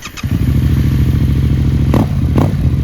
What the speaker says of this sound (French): Je peux déplacer la moto